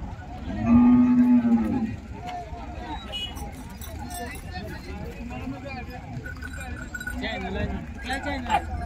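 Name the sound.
bulls mooing at a cattle market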